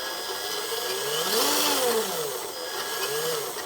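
An HG-P407 RC truck with metal gears, running in its middle rear-wheel-drive gear, whines loudly under throttle, the motor and gear pitch rising and falling in a couple of close, sweeping revs.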